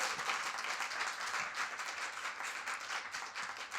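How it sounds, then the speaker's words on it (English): An audience at a state poetry recitation competition claps in a sustained round of applause, fairly faint and distant, steady throughout with no voices. "Give a round of applause."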